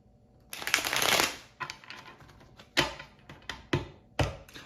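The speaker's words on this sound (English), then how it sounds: "All right, let's shuffle this out, Aries." A deck of cards is riffled and shuffled close by, a long burst followed by several shorter crisp shuffles and taps.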